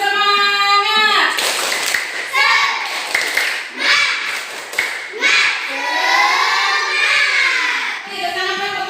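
Children in a classroom doing a rhythmic spirit clap, sharp claps landing in quick patterned bursts with young voices chanting and shouting along throughout.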